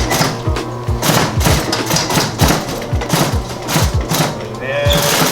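A sewing machine runs in steady rapid bursts stitching a leather duffle bag, its needle hammering rhythmically with brief pauses for a backstitch, loud and close with a voice speaking over it.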